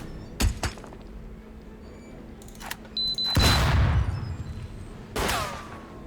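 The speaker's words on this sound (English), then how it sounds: "It was the flashbang." A flashbang grenade goes off in Tastee: Lethal Tactics with a sharp, loud blast that rings out, surrounded by scattered gunshots and clanks, with another burst near the end.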